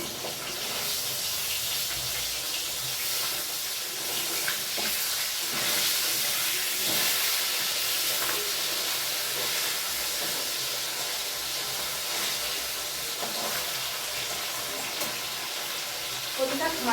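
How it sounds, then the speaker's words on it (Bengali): Fish frying in a kadai pan on a home stove gives a steady, close sizzling hiss with spitting crackles that runs unbroken throughout, with no talk over it. "আর এখানে মাছ ভাজা চলছে"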